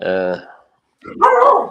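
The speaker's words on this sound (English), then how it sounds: "that's my dog" A pet dog barks at home during a live boxing chat, a harmonic yelp or whine followed after a pause by a louder, rougher bark burst, close by, with a person talking around it.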